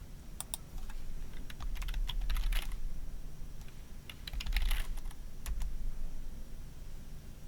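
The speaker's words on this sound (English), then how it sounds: "To search for a concept, type in the search field in the top for a word that you're looking for." Someone types a search word on a computer keyboard, brief bursts of quick clicky keystrokes with short pauses between them, fairly quiet and close.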